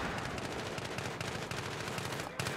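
Dense, continuous automatic gunfire from Battlefield 3 Close Quarters on the Donya Fortress map. The rapid shots overlap without pause, loud and close, for the whole stretch.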